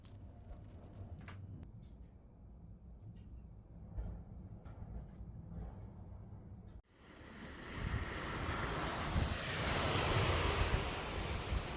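Ocean waves wash onto the shore beside a cosy seaside cabin at dusk, a soft steady surf that swells louder and fuller midway, with some wind noise.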